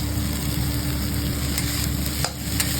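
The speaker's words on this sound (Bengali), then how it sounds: "এবার দিয়ে দেবো মটরশুঁটিগুলো," Green peas going into a pan of mixed vegetables with tomato and spices, a steady close sizzle of frying with light stirring scrapes and a couple of sharper clinks, no voices.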